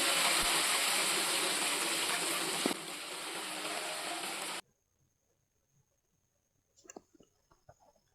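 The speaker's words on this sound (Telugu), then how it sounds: "ఈ ఆయిల్ కొంచెం హీట్ అయిన తర్వాత చికెన్ ముక్కలను వేసుకోవాలి." Chicken pieces drop into hot oil for deep frying while making chicken pickle, giving a loud, steady sizzling hiss for several seconds that suddenly cuts off, followed by a few quiet clinks.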